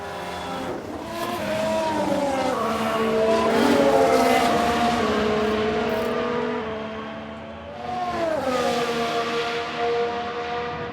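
Race cars in the F1 Manager 22 video game, including a Williams spinning out, roar past with rising and falling engine pitch and tyre squeal, loud and continuous with no talk.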